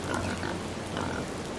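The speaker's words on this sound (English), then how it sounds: "There's a pig coming." A pig grunts steadily in the Hunting Simulator 2 hunting game, a low continuous snuffling with two stronger swells, fairly close and with no talk over it.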